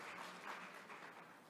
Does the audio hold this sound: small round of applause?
yes